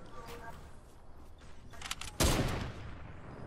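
A single loud, sharp sniper rifle shot in Fortnite cracks out near the end, following quieter shuffling game sounds.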